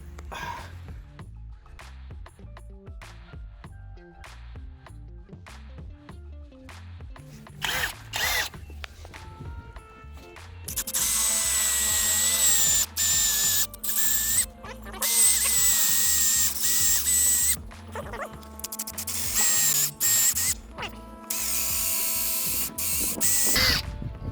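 A power drill runs in loud sustained bursts from about the halfway point, boring holes for mounting a Vevor retractable hose reel, after a quieter stretch of handling and tapping noises.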